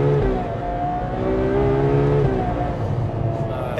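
Ferrari 812 Superfast V12 engine under hard acceleration, a loud sustained high-pitched roar that climbs in pitch, drops briefly at a paddle gear shift and climbs again, heard from inside the car.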